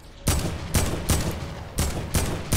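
Gunshots in Fortnite, five or six loud, close, evenly spaced blasts in quick succession, each a sharp burst trailing into a noisy tail, with no talking.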